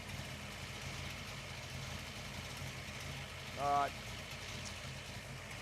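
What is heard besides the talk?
Ford Falcon car engine idling at traffic lights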